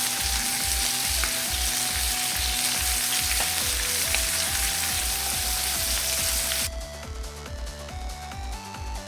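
Rabbit meat sizzles and fries steadily in two pans for a rabbit stew, a loud continuous crackle with a rhythmic, repeating low thumping beneath it and no talking.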